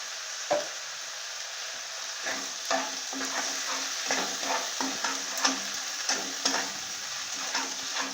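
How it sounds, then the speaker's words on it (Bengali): Onion with ginger garlic paste fries in a pan, giving a soft, steady sizzle punctuated by regular scraping and clinking of a spoon stirring close by. "পেঁয়াজটা নাড়াচাড়া করতে করতে আমি এতে দিয়ে দেব আদা রসুন, 1 চামচ দিয়ে দেব আদা রসুন পেস্ট।"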